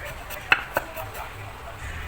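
A couple of sharp knife taps on a cutting board while finely slicing milkfish, close and brief, followed by quiet kitchen background.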